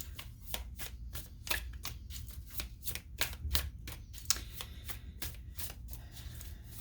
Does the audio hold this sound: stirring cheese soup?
no